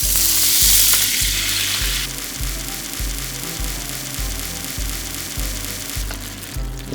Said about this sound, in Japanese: そしたら同じようにまたお肉フライパンで焼いていきましょう